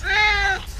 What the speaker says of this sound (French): Simplement appuyer sur le bouton ici et ça fait un miaulement.